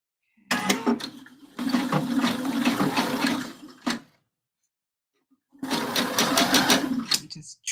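A sewing machine runs in three separate bursts of rapid, even stitching along the centre seam of a bra cup, with short quiet pauses between the runs.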